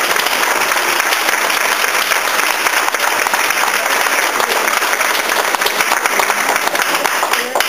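An audience at a candidates night voter empowerment event gives a sustained round of applause, dense steady clapping from many hands filling the room without pause, with a few voices faintly mixed in.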